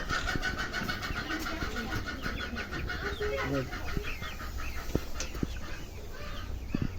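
Small chickens cluck and chirp repeatedly over a steady background hum, with scattered soft knocks and a few sharper calls throughout.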